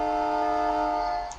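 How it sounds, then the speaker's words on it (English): A truck's train-style air horn in American Truck Simulator blasts as one loud, steady, multi-tone chord held for over a second before fading slightly, with no talking over it. "Let's check out the horn. Oh my goodness. Train horns, guys."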